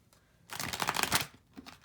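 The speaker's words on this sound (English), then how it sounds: "I'm going to take a card from my Dreams of Gaia deck. I'm going to shuffle this as well." A Dreams of Gaia tarot deck being shuffled, a dense papery riffling burst of cards up close, then a short softer flutter at the end.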